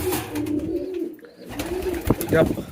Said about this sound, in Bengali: আমাদের লক্কা কবুতরটা দেখেন